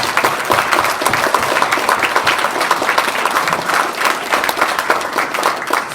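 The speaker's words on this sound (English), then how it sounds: "how about a big round of applause for all of those guys for their membership?" A room of fraternity chapter members at a Founders Day event breaks into sustained applause, dense overlapping clapping that stays loud and even throughout, with faint crowd murmur underneath.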